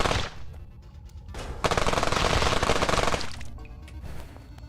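Machine gun fire in a dinosaur video game, a sustained rapid burst in the middle with shorter volleys before and after, loud and up front with no talking.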